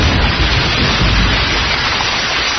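Steady heavy rain pours without a break, a loud broadband hiss with dense low rumble, used as a background effect in a Bengali suspense audio drama at night.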